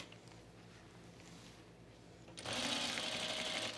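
Sewing machine stitching along a camp shirt collar, quiet at first and then starting up into a steady, close whirring hum for the last second or so, with no talk.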